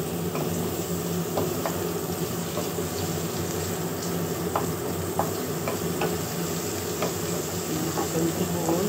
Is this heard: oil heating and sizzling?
yes